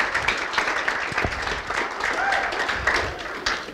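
A school graduation crowd gives the incoming freshman class a round of applause, a dense wash of clapping with scattered voices mixed in.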